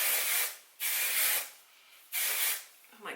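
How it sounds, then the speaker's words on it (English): Kevin Murphy Bedroom Hair flexible texturizing hairspray sprays in three close, steady hissing bursts of about half a second to a second each, separated by short pauses, with no talk over it. "This is actually a flexible texturizing hairspray."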